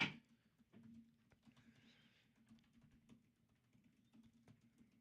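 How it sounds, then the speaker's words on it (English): Quiet keyboard typing, a run of soft irregular key taps over a low steady background hum, with a faint chirpy tone briefly in the middle. "Listen to her typing."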